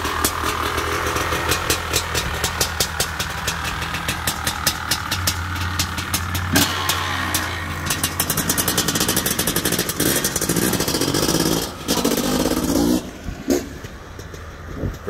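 An original, low-hour Honda CR500R two-stroke dirt bike engine runs loud and close, idling with a rough pulsing beat, then changing pitch through blips before settling and cutting near the end.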